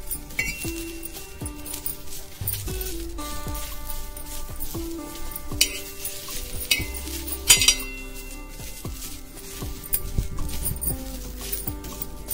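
Mixed vegetables roast in a pan as a metal spatula stirs them, making frequent bright clinks and scrapes against the cookware in an uneven, busy rhythm close by.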